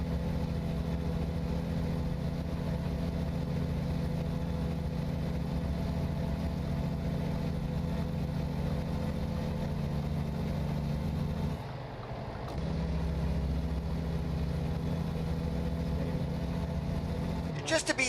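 Stock SCS engine sound of a Volvo truck idling in American Truck Simulator, a steady low mechanical drone that holds evenly for most of the stretch, dips briefly and then resumes, with no talk over it.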